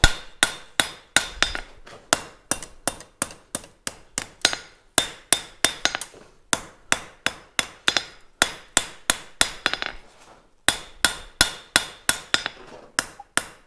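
Hammer blows forging the heel of a knife blade in a gas forge setting: fast, evenly spaced ringing strikes in bursts of a few seconds, with brief pauses between series, close and loud.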